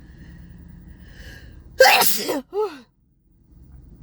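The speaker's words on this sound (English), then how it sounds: "I'm going to sneeze." A single loud, close sneeze bursts out after a quiet moment, followed by a brief voiced sound, then near silence.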